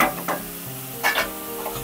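Onions frying in hot oil with salt in a pan, a soft steady sizzle with a couple of brief stirring scrapes, close and fairly quiet.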